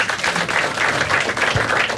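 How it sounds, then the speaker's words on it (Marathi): Audience at a Marathi stand-up comedy crowd-work show applauds: a dense, even wash of clapping that holds steady for about two seconds, with no talk over it. "टाळ्या वाजवा सगळ्यांनी"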